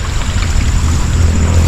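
Irrigation water gushing out of a pipe line, a loud, steady broadband rush with a low churning rumble underneath, continuous and close.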